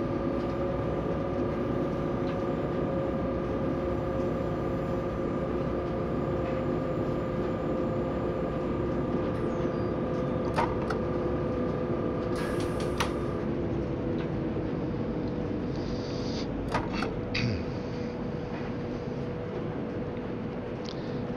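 Train on the Drautalbahn line in Austria entering Spital-Millstätter See, a steady loud rumble with a sustained mechanical drone from inside, occasional squeaks and clicks near the end, no talk.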